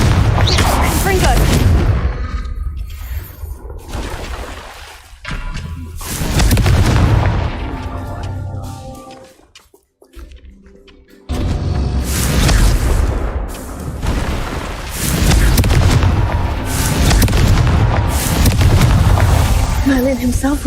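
Confringo fire spells explode in the video game Hogwarts Legacy, a run of loud, close booming blasts that burst and roll out one after another, with a short lull midway and voices heard now and then.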